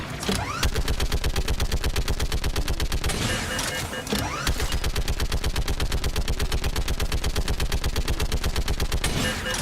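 Rapid automatic turret fire in the video game Mass Effect 3 rattles out in long, fast bursts, loud and close, with a brief pause near the middle before the stream of shots resumes.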